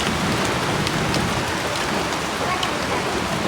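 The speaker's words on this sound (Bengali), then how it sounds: "এই দেখেন বৃষ্টি আর বাতাস একসাথে আরম্ভ" Heavy rain with wind falls steadily outdoors in a rural setting, a close, continuous hiss of drops hitting surfaces with no pauses or voices.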